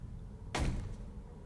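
A door in the game Baby in Yellow opens with one sharp thump, close and fairly quiet, followed by a short fading rumble.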